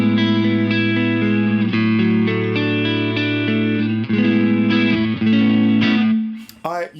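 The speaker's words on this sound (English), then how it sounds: "there's a nice bit of distortion to it, but it's not a distortion. It's that sort of tape saturation." Electric guitar chords pass through the Safari Pedals Rabbit Tape plugin, warm tape saturation giving a slightly gritty, analog sustain; the notes ring steadily and cut off near the end.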